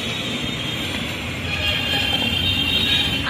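An MMTS suburban train rolls past on the tracks near Malakpet metro station, a loud continuous rumble and rail clatter that swells slightly as it goes by.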